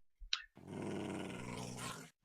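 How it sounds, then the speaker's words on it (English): A pet hound in the Minecraft FTB New World modpack lets out one short sharp yip, then a sustained low growl that holds steady for nearly two seconds, close and alone with no talk over it. "Bertie, the little growling hound"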